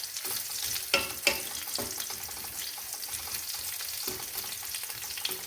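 Pirandai, curry leaves and garlic fry in oil, a continuous fine sizzle broken by a few sharper pops and stirring scrapes, close and moderately quiet.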